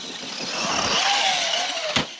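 A Redcat MT10E electric RC monster truck drives off after a jump, its motor whine rising and falling over about two seconds, ending in a sharp thud as it lands.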